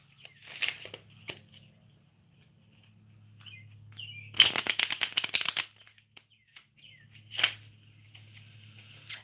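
Playing cards are riffle-shuffled in one quick, crisp burst of rapid flutters, with softer card handling before and after.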